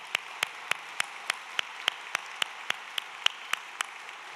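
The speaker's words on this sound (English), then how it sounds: "Let's give her a huge round of applause." An audience at a Mother's Day luncheon applauds Dr. Roberts, with clear, evenly spaced claps ringing out over a soft bed of lighter clapping in a room.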